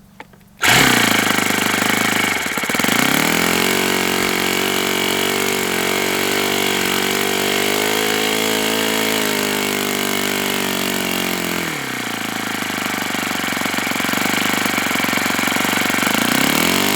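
A Thunder Tiger 54FS model engine on a test run starts abruptly and screams loud and close without a break, its pitch climbing after a few seconds, holding, then sagging and recovering.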